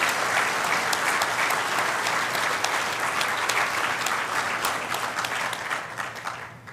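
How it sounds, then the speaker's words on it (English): Broad, sustained applause from a large audience at a Trent University Durham convocation ceremony, a dense steady wash of clapping that holds level and then tapers slightly toward the end. "I'm going to ask that we have a round of applause for the board deciding to take this even further."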